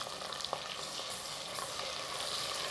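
Shallots, green chili and ginger-garlic paste fry in hot oil with a steady, dense sizzle and crackle, close and continuous, with faint stirring knocks and no talking.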